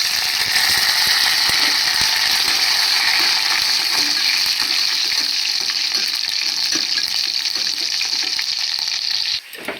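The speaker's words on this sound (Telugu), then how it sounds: "తాలింపు అయితే వేసుకుందాం." Spices tempering in hot oil for a cashew curry, a loud, dense crackling sizzle held steady for about nine seconds, then cutting off abruptly near the end.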